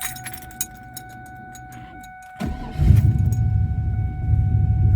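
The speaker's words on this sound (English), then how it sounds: "Then I'm gonna start the vehicle." Carbureted turbocharged LS engine in a car with a stock PCM cranks briefly after faint key jingles, then catches and settles into a loud, steady idle rumble, close by.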